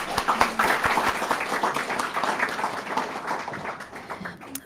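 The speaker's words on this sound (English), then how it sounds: "One more round of applause, please." A room of guests at an opening dinner banquet gives a round of applause, a dense, moderately loud patter of many hands that holds steady for a few seconds before thinning out.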